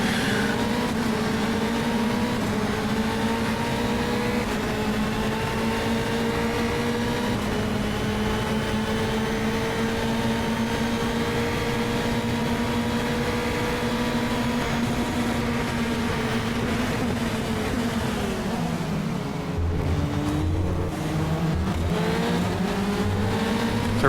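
Formula 3 race cars at Circuit Gilles Villeneuve, a steady high-pitched engine roar with rising and falling revs as the cars run closely together, dropping in pitch near the end as they brake.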